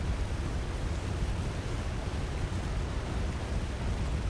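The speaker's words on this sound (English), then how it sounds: "Waterfall." A waterfall in The Long Dark video game gives a steady, unbroken rushing roar of falling water, fairly distant and even in loudness throughout, with no voices.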